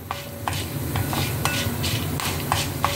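Spices sizzle and crackle hard in a hot pan, with frequent quick stirring scrapes and small clinks over a constant frying hiss.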